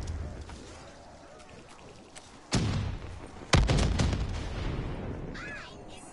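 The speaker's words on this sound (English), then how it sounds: "So many explosions." Black Ops III Zombies combat on The Giant map with two sharp, booming explosions a second apart amid scattered gunfire, followed by rumbling debris and a brief synthetic warble.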